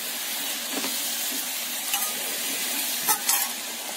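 Sugar syrup being stirred into qimami sewai, vermicelli cooking in a pan: a steady close sizzle with soft scraping stirs and a few brief clinks of a spoon, no talking.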